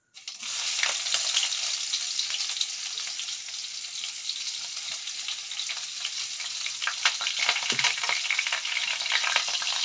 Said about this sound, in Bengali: পেঁয়াজ কাটাটাকে ভালো করে ভেজে নেব